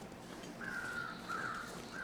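Crows in The Long Dark give three distant, drawn-out caws in a row over quiet wind-like ambience.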